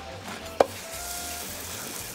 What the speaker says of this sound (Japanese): もう一枚またバター溶かして焼きます